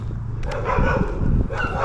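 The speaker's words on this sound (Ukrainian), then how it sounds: "Як були собаки, так так і до сих пор тут вони гавкають." Several dogs bark in short bursts at some distance outdoors, sharp yaps recurring over a steady background rumble.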